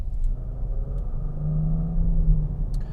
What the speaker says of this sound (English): that 3-cylinder is paired with a CVT